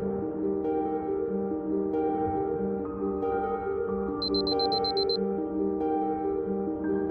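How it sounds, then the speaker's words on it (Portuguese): An alarm system triggers in the anxiety-themed game Fractured Minds, a quick run of bright, regular electronic beeps sounding for about a second over a sustained, droning musical background. "sistema de alarmes ativado"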